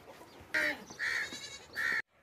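Sacrificial goat, a tall, stout two-toothed male, bleats three times in short, loud, nasal calls, fairly close, with quiet background between them.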